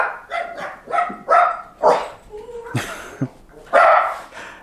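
A dog barks in a quick series of loud, close yips and barks, with brief gaps and a faint whimper between them.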